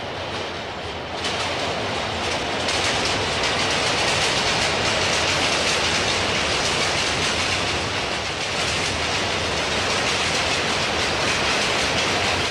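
A freight train of boxcars rolls past, a loud, continuous rumble with rhythmic clickety-clack of wheels on the rails throughout.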